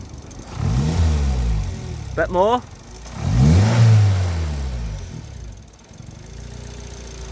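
Turbocharged Suzuki Swift ZC31S engine revving in short bursts, rising and falling twice with a loud swell near the middle, close by, while people talk briefly over it.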